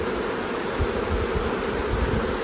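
Honey bees hum in a dense, continuous drone around an opened hive during a colony split, the many wings buzzing close and steady without pause.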